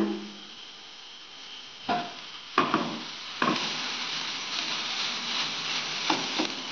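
Washed flattened rice (poha) tipped into spiced masala in a pan, a few scraping, stirring thumps of the spatula over a low steady sizzle, close and fairly quiet.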